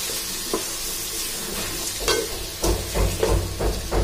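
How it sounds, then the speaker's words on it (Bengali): Washed lentils fry in hot oil in a wok, a continuous sizzle with scraping stirs against the metal that grow louder and more frequent toward the end, close and without talk. "এখন আয় তেল গরম করি, কড়াইয়ের ভিতরে সাইল ডাল যা ধুই দেয় নিছি সবগুলো দিয়ে দিছি। এখন এখানে বালা করে ভাজি লই,"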